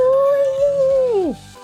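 A wolf howl voiced by a woman reading a children's bedtime story aloud: one sustained, wavering tone that holds steady and then slides down at the end, a human imitation rather than an animal.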